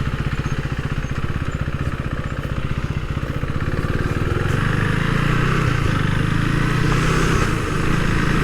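A Husqvarna Svartpilen 401 single-cylinder motorcycle runs with a close, steady pulsing thrum that grows slightly louder and smoother about halfway through, as if revs rise under way.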